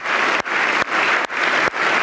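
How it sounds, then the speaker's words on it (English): A crowd's clapping, led by Donald Trump, comes as a dense wash of applause that cuts out abruptly at regular intervals, giving a choppy, stuttering rhythm of roughly half-second bursts. "And now Trump's leading the clapping again."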